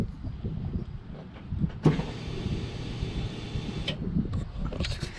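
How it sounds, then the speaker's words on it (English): Electric fuel pump in a pickup truck: a steady motor whine switches on suddenly and runs evenly for a couple of seconds before fading, close and moderately loud, with small clicks around it. "Yep, fuel pump's working."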